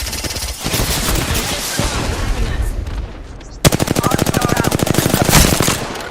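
Video game gunfire, starting with a dense roar of overlapping shots and then turning into a loud, rapid, evenly spaced automatic burst that rattles on for about two and a half seconds.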